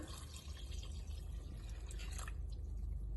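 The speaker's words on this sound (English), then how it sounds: "then I have 6 cups of water that I went ahead and measured out a little bit ago. So I'm just gonna pour all that together." Six cups of water pour into a cooking pot with a bouillon cube, a steady faint splashing gush that runs continuously without talk.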